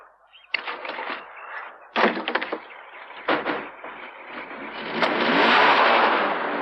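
A stolen car pulling away, with bursts of engine and door noise, a starter and revving that build into a loud, sustained acceleration toward the end.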